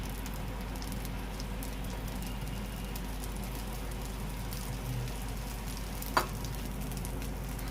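Onion egg dosa frying in oil on a hot pan gives a steady, even sizzle throughout, with one brief sharper crackle near the end and no talking.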